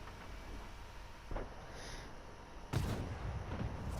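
Tank cannon fire in the World of Tanks console game, with two booming shots: a softer, more distant one early and a louder, nearer blast later, both over a low rumbling background.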